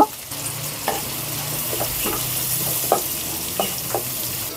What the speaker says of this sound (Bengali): এখানে পেঁয়াজ, রসুন, কাঁচামরিচগুলো ভাজা হয়ে গেছে